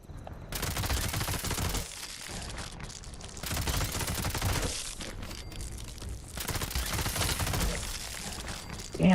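Sustained bursts of rapid automatic gunfire from a weapon in Fallout 76, loud and close, broken by brief pauses between volleys, with faint talk underneath.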